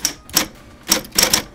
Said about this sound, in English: This is also a typewriter, but it's an electric one.